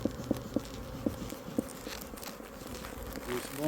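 Honeybees clustering outside the entrance of a hive box during a swarm give a soft, diffuse outdoor hum with a few light taps early on, faint and steady throughout.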